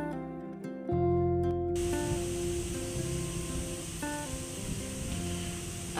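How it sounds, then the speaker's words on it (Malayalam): A small electric food chopper whirs into a loud, continuous grinding roar as it chops green chili and curry leaves, after a brief quiet start with a few clicks. "അതും ഇതിലേക്ക് ഇട്ട് കൊടുത്തിട്ട് ഇത് അടച്ച് വെച്ചിട്ട് നല്ലപോലെ ഒന്ന് ചോപ്പ് ചെയ്തെടുക്കാം"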